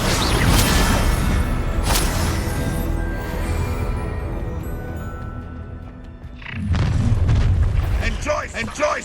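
Deep, rumbling spell explosions and fiery blasts from the video game Hogwarts Legacy sound loud and close, easing off midway before a fresh burst lands. A voice speaks over the combat.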